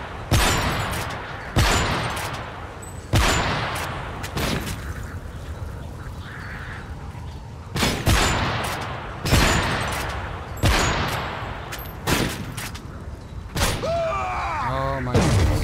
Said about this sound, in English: I'm just like firing off fucking shots like crazy